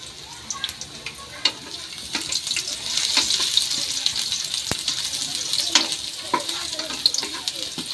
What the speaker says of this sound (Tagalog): Igisa po natin yung luya mga kaigib.